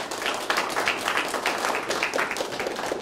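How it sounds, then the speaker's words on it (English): Audience applause at an amateur astronomy conference, a steady wash of many hands clapping in a hall, sustained and moderately loud for several seconds with no talk over it. "Let's just give them a quick round of applause."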